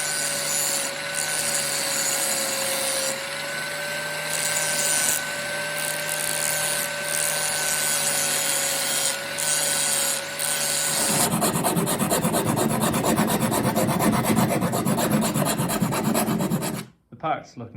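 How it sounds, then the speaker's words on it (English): A hand file works a metal part with a steady scraping rasp, first over a background hum with tonal whines, then in a dense run of rapid strokes before stopping abruptly near the end. "I'm going to see how much the hand file will do"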